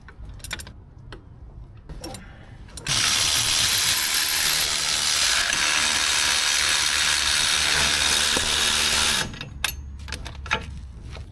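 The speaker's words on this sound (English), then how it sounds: "Unbolt the 4 wheel bearing fasteners." A power ratchet unbolts the four wheel bearing fasteners on an Alfa Romeo Stelvio front hub. It runs close and loud in one long continuous whir lasting several seconds, with scattered metallic clicks and handling noises before and after.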